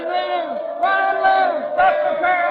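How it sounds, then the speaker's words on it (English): Crowd yelling in an old-time radio espionage drama, a loud massed chant of voices in repeated swelling bursts, close and filling the scene with no single voice standing out. "The crowd, they're yelling something."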